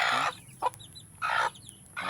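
Young backyard chickens cluck in short, repeated bursts, fairly close and moderately loud, with brief quiet gaps between calls and no talking.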